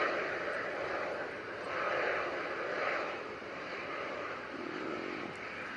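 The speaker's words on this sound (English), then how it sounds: "And the KLM Embraer, feeling the wind." A KLM Embraer jet on approach in strong wind, a distant steady engine roar mixed with gusty wind noise, swelling slightly midway and staying fairly faint throughout.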